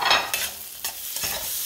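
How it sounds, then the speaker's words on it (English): Garlic sizzles and fries in butter in a pan, a steady close hiss broken by short scraping stirs. "We're going to put garlic first."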